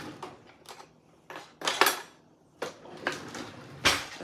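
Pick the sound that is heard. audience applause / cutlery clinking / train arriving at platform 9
cutlery clinking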